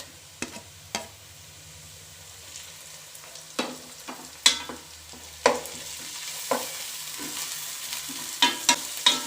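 Ginger garlic paste frying with browned onions for chicken kabsa, stirred with a series of distinct spoon scrapes and knocks against the pan over a low sizzle, spaced irregularly and close.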